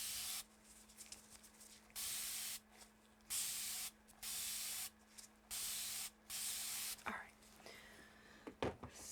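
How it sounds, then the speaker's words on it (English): Water spritzed from a spray bottle onto a compressed sponge in short, close bursts, about six evenly spaced sprays with quiet pauses between, followed by faint handling sounds. "So I'm going to go ahead and use this compressed sponge. First we'll get it wet."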